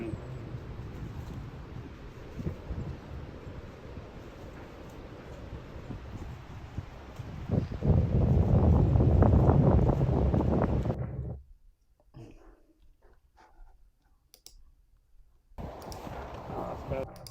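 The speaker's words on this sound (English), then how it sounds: "Sorry about wind." Gusty wind buffeting a microphone outdoors on a mountain vacation, a steady low rumble that swells loudest midway, then drops out abruptly before returning.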